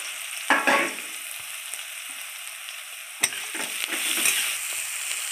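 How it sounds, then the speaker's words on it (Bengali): Radish greens fry in oil with a busy sizzle, broken by several stirring scrapes and clattering knocks that come and go. The sound is close, with no talking. "এটা নিরামিষ পদ্ধতিতে মূলো শাকটা ভাজা হবে।"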